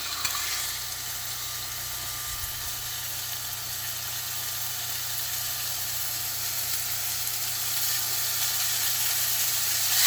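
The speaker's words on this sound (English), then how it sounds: "So I'm just gonna turn this on super high and get it to sear." Prime rib sears in a pan on an induction burner turned up high, giving a steady broadband sizzle with a faint low hum underneath that holds evenly for about ten seconds, with no talking.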